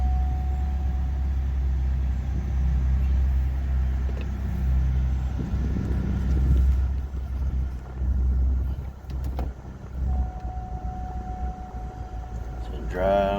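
Cadillac STS engine idling after a push-button start, a steady low rumble throughout, with a faint chime tone near the start and end and occasional small clunks and cabin noises.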